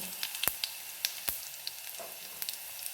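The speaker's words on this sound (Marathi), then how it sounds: "जिरे तडतडले" Cumin seeds splutter in hot oil, a quiet hiss broken by a few sharp pops and crackles at irregular intervals, heard alone without voices.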